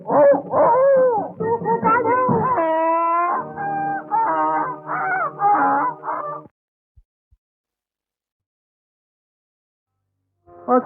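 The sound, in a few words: voice imitating a dog howling in a song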